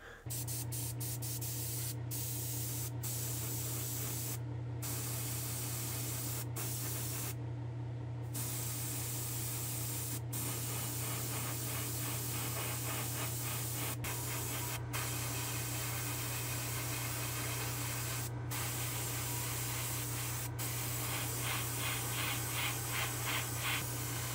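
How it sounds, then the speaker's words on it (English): A continuous, steady hiss of orange spray paint on a model build from an airbrush or can, close and even, with a low constant hum beneath and occasional brief clicks. "I plan to spray our orange"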